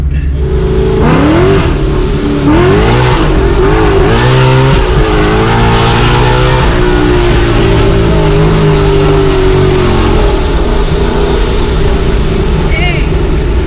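A 1100 hp procharged Ford Mustang accelerates hard from inside the cabin, its engine note loud and sweeping up through gears, supercharger whine and roar continuous for the whole stretch, with people talking over it.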